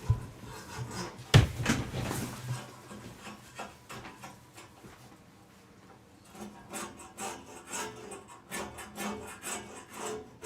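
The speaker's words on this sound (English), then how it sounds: "Sounds like somebody's sawing it." Rough rasping and rubbing on wood carries through from next door, a loud burst of strokes at first, then quieter intermittent scraping that comes and goes.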